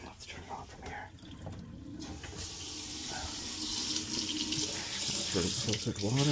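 Filtered water flows from a Moen kitchen faucet into the sink, a close, continuous splashing stream that builds in strength, with someone speaking over parts of it.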